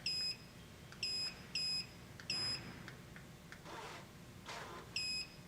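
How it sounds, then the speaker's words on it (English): An MCD RV roller shade motor gives short, high electronic confirmation beeps, about six evenly spaced chirps with a brief motor jog sound between them, faint in a quiet room. "you'll get 4 beeps, and on the 5th, you'll get a jog and then your final beep"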